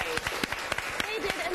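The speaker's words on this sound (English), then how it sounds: "you can clap" Studio audience applause on a television talk show, a brief burst of scattered clapping mixed with voices talking over it, fairly close and loud.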